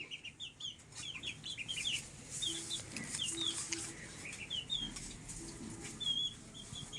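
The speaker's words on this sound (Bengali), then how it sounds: "একটা মোরগ তিনটে তিনটে মুরগি" A rooster and three hens in a cage cluck repeatedly in short bursts, with occasional wing flaps and faint background noise and no talking.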